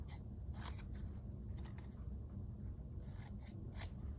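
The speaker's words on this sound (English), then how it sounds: "We're going to take our orange paper and cut out our triangle" Scissors snip through orange paper to cut out a triangle, a series of quiet, close crisp snips in uneven bursts with no talking.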